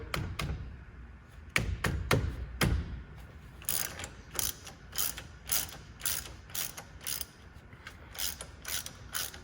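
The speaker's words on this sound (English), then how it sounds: "we're just going to use our 3/8 ratchet" A 3/8 ratchet clicks rapidly as it loosens the fill plug on a HMMWV geared hub, a few heavier knocks at first, then a regular series of crisp pawl clicks, close and fairly quiet.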